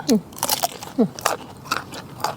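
Crunchy bites and chewing of food eaten with fresh raw vegetables, likely grilled tilapia dip with greens, heard close up as a few sharp crunches at an irregular pace, with a faint voice in the background.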